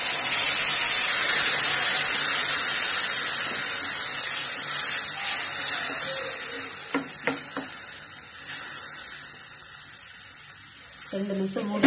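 A cup of water hits a hot pan of vegetables for rava upma with a loud, steady sizzling hiss that gradually calms, while a voice speaks briefly toward the end.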